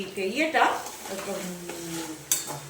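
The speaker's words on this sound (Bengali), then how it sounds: "তো এই পজিশনে দিয়ে দিচ্ছি আদা রসুন" Crushed ginger and garlic frying with deep-browned onions in a pan makes a sizzle with stirring scrapes. A sharp metallic clink comes near the end, and a voice may be faintly present.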